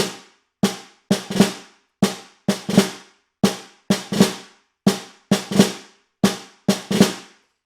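A snare drum plays a slow passage with right-handed drags from an all-state honors band solo, sharp cracks arriving singly and in quick grace-note clusters that ring briefly, close and unaccompanied.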